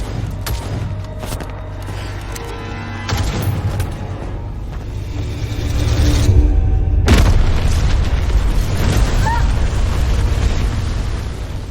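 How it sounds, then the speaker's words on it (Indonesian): A powerful bomb explosion in an action film about elite Mexican troops and a sniper trapped by cartel forces: sharp booming blasts that open into a sustained loud roar and rumble of debris, with sporadic bursts over several seconds. "terdengar suara ledakan bom yang begitu dahsyat"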